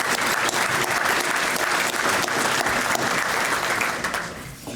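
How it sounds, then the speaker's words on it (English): Loud, dense applause from an awards ceremony audience, many hands clapping continuously for several seconds before tapering off at the end. "Please join me in a round of applause for each of our Crystal Apple sponsors this evening."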